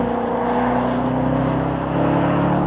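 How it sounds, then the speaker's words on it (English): A Range Rover Velar SV Autobiography with its 550 hp engine drones loudly and steadily while driving, a continuous deep engine hum with a slight rise in pitch near the end and no speech. "Oh, I love the engine."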